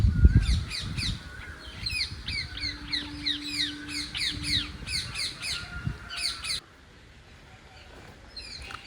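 Many parrots and other birds calling from a tree, a busy mix of repeated shrill squawks and chirps, fairly close, continuing for several seconds before thinning out.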